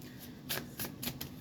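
Oracle cards from the In the Shadows deck being shuffled, giving four quick papery riffling bursts in close succession over a quiet room, with no talking.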